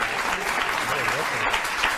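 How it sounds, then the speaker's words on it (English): Studio audience applauding during a TV talk show, a dense, steady wash of clapping that fills the brief moment at moderate volume, with a voice faintly underneath. "You can applaud anytime you like"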